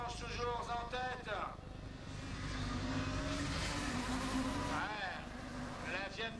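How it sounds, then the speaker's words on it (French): A Fiat Punto Abarth rallycross car races at a French championship event, its engine revving in rising and falling sweeps as it passes, with a commentator's voice running over the loud engine noise. "La Fiat Punto Abarth."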